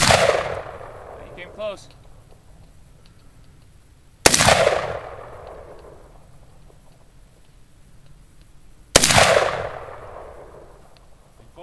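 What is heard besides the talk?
Bushmaster XM-15 E2S AR-15 rifle gunshots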